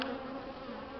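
An angry swarm of bees from a hive fills the air with a dense, steady, close buzzing drone, with no voices.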